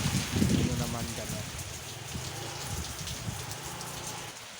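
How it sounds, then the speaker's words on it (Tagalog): Steady heavy rain hisses outside a house in a storm while wind gusts push through, forming a continuous, fairly loud wash of noise with a stronger surge near the start. "may kasamang ulan, may kasamang hangin pa dyan"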